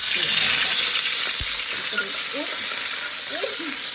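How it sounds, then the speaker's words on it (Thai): Thai curry paste dropped into hot oil for stir-fried spicy eel gives a loud, dense, steady crackling sizzle that fills the whole span, with faint voices barely audible beneath. "เดือดแล้วใส่พริกแกง"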